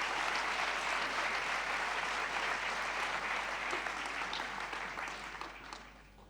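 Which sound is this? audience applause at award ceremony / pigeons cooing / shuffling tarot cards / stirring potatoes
audience applause at award ceremony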